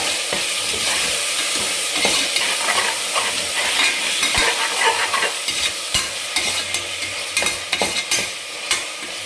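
Curd stirred into tomato masala frying in a pan for chicken banana-leaf biryani, a continuous sizzle under repeated scraping spoon strokes, close and steady with no talking.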